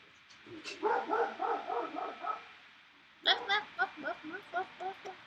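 A dog barks in two quick runs of rhythmic yaps, a short series followed by a pause and another string of barks, fairly close and clear.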